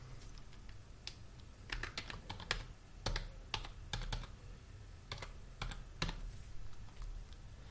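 A computer keyboard clicks as a PAN card number is typed into an online personal loan form, with irregular bursts of close, crisp keystrokes separated by short pauses.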